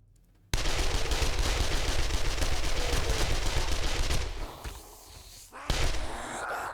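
Sustained automatic gunfire in 7 Days to Die aimed at an Infernal, a loud, continuous stream of rapid shots that thins briefly before another burst.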